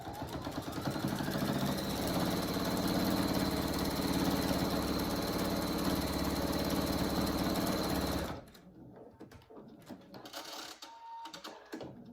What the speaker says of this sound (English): then I'm going to sew it together